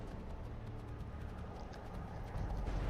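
Horse hooves clip-clop steadily across the ground in the Skyrim video game, a close, continuous rhythmic clatter that grows slightly louder toward the end, with no voices.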